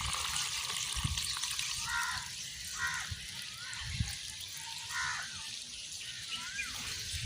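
Soaked papaya seeds are lifted out of a container of water while preparing a nursery. Small splashes and trickling drips sound close by, with birds chirping faintly in the background.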